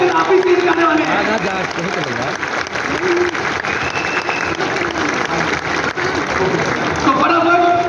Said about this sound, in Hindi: जोरदार तालियां तालियां बंद नहीं होनी चाहिए, इनके उत्साह को बढ़ाइए